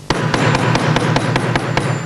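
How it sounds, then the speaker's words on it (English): Eight sharp, evenly spaced strikes from the flat of a hammer ring on a copper ring laid over wood, loud and close, with no talking. "take it to a piece of wood, turn it dimpled side down, and hit it with the flat of the hammer."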